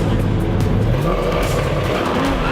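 A pair of Ford Mustang street cars drag racing on a Friday night at Richmond Dragway, loud engines roaring at full throttle with rising revs and tire noise, heard from trackside.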